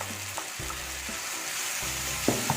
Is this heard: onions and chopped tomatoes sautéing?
yes